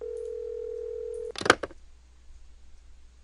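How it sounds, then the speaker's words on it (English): Steady telephone dial tone from the Nancy Drew game Secret of the Scarlet Hand, holding for over a second before a short burst of dialing clicks and tones, then quiet. "Okay, let's try calling Henry."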